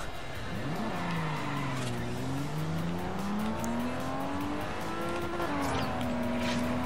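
Mercedes engine in the Forza Horizon racing game, a steady loud roar with rising and falling pitch as the car revs and shifts, continuous throughout with no talk.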